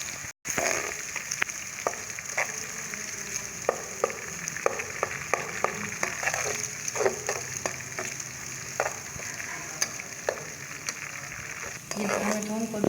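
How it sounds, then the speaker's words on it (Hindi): Garlic fries with lightly browned onions in a pan while making chana dal gosht, a steady sizzle broken by scattered soft clicks and scrapes of stirring. "इसमें थूम डालेंगे हम और इसको 2 मिनट भून लेंगे इसी तरह से ताकि हल्का ब्राउन हो जाए।"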